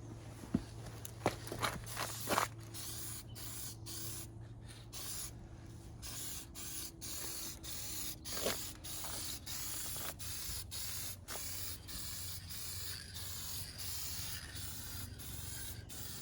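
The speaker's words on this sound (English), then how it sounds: "Now I'm gonna take my spray paint." Repeated short bursts of hissing from a spray paint can on a 1996 Mazda Miata bumper, a steady rhythm of sprays with brief pauses, close and moderately loud.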